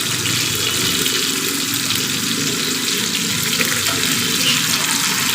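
Ash gourd coated in mustard paste frying over medium heat in a pan, a steady, close sizzle and hiss that runs evenly and alone throughout.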